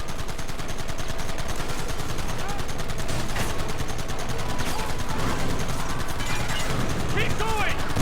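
Gunfire in the Western game Red Dead Redemption, dense continuous shooting with overlapping shots, loud and close, with shouting voices over the battle.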